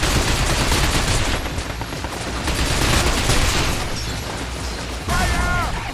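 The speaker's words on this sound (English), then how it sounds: "Gonna blast them out of the sky!" Rapid gunfire in the video game Binary Domain as aerial units are shot down, a dense, loud, continuous barrage of shots and explosions filling the whole stretch with no pauses.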